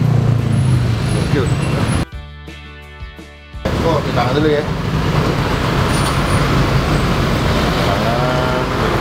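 Heavy traffic in a jam on a road gives a continuous dense rumble of engines and vehicles, cut by a short tonal chime partway through, while people talk over it.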